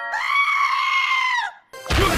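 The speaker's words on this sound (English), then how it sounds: "they were off to a terrible start with the screaming goat gag" A goat lets out a loud, sustained human-like scream lasting over a second, used as a comedic gag in a Phineas and Ferb cartoon, followed by a brief pause and a burst of noisy sound.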